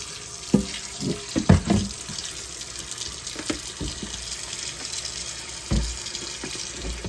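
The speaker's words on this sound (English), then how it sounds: "I'm putting a little water in my skillet here" Water runs from a tap in a steady hiss, splashing into a skillet, with a few sharp clanks and knocks of cookware along the way.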